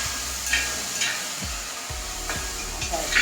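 Jackfruit frying in ghee while being stirred, a steady sizzle with periodic scraping stir strokes, close and continuous with no talking.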